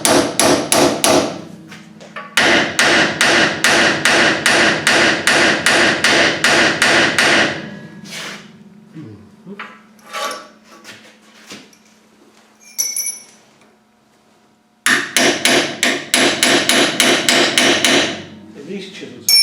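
A hammer strikes thick chisels while a snapped bolt is worked out, giving close, loud, rapid metallic blows in long runs, with pauses filled by faint clinks and scraping of tools.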